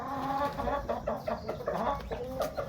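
A hen on a poultry farm clucks repeatedly in short, uneven bursts, fairly close and clear over a light background.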